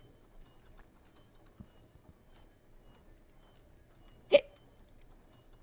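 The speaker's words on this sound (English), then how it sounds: "Hiccups." A person lets out one sharp, loud hiccup near the end, standing out clearly against an otherwise quiet room with only soft, scattered background noises.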